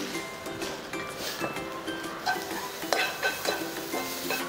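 Mushrooms fry in oil with minced garlic and a pinch of salt, giving a steady close sizzle and crackle with occasional scraping and stirring clinks, and no talk.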